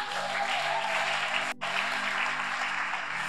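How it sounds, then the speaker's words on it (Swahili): Church congregation applauding during a Sunday morning prayer service, a dense continuous roar of clapping with a faint hum underneath and a momentary dropout midway. "Mshangilie Bwana kwa makofi."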